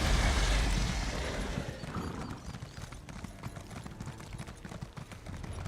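In Elder Scrolls Online, a horse's hooves clip-clop in a steady rhythm. The hoofbeats are loudest in the first second, then continue softer and evenly without talk.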